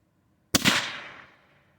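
A single sharp gunshot from a .22 LR rifle firing a CCI Stinger 32 grain hollow point, loud and close, cracking out of silence and fading in a short outdoor decay.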